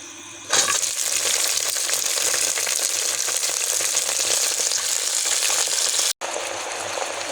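Chopped vegetables drop into hot oil already frying with green chilli and garlic, setting off a sudden loud sizzle that holds steady, with a brief pause near the end before the frying resumes.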